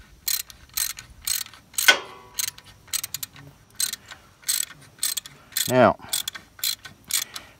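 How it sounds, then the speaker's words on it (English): A tap cranked by hand to push out a VW 1600 starter bushing gives repeated quick ratcheting clicks in irregular bursts, close up, with a brief squeak partway through and a single short spoken word. "we're going to crank this baby out by hand"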